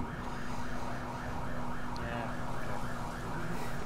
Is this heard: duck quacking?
no